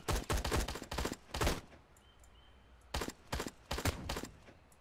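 World War Two soldiers in the WarBox Sandbox game fire in rapid clusters of sharp shots, two loud volleys separated by a brief quiet gap.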